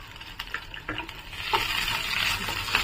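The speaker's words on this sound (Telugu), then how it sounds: "ఉల్లిపాయలు కరివేపాకులన్నీ బాగా వేగాలి." Onions and curry leaves frying in a pan for carrot rice, a steady close sizzle broken by scattered spoon-stirring scrapes and clicks, growing fuller and louder toward the end, with no talking.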